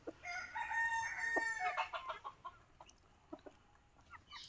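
Silky and local chickens cluck and make short crowing calls near the microphone as they peck at scattered grain on a farm, giving a run of clear, close bird calls that fade into quieter pecking.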